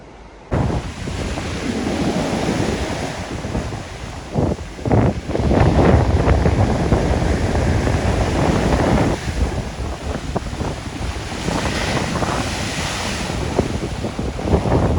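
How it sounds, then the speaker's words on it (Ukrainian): Stormy waves on the Black Sea at Odesa crash and roar continuously along the embankment while strong wind buffets the microphone, loud and close. "там волни дурдом і вітер піднявся"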